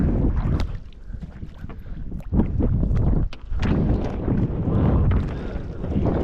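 Strong wind gusting outdoors beside a fishing boat and its large net, a loud, steady roar of wind buffeting the microphone with occasional knocks and rustles.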